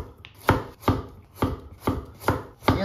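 Kitchen knife slicing fish on a cutting board for homemade sushi, six evenly spaced sharp taps against the board at a steady rhythm, close and clear with no talk.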